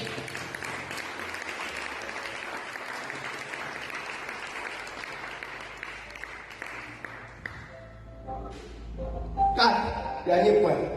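A church congregation applauds at a sermon, giving a sustained wash of clapping for several seconds that fades out, then a voice speaks and some louder claps and sounds close the clip.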